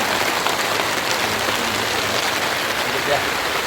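Heavy rain pours down at night beside a fishing spot, a dense, steady roar of drops drumming on surfaces that stays loud and unbroken throughout, with no other sounds rising above it.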